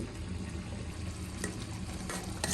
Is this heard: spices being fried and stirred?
yes